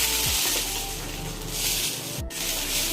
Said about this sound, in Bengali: দিয়ে একটু ভেজে টমেটো দিয়ে দিলাম